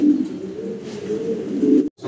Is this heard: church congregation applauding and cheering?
no